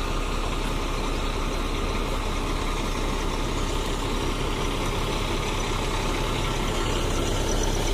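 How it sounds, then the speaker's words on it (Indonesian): A Mercedes-Benz 1836 bus diesel engine idles with a steady, dense rumble and broad noise throughout, constant and fairly close, with no voices. "Dan ini memakai mesin Mercedes-Benz 1836 R suspension."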